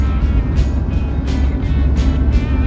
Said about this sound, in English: Driving lovely, holding the road nice and steady, changing all through the gears nice.